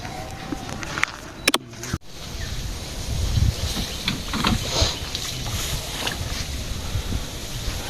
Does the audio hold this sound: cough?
no